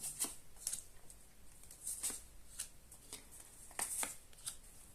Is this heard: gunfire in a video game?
no